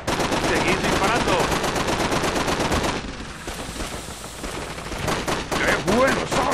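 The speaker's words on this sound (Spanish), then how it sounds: "Seguid disparando." Rapid automatic gunfire in the World War II shooter Call of Duty: Big Red One, dense rattling bursts from machine guns, a brief lull, then heavy firing resuming loud and close.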